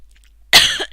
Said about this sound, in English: Sorry, I have to cough right at the end.